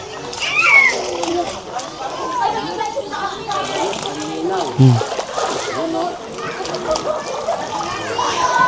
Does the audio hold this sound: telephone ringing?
no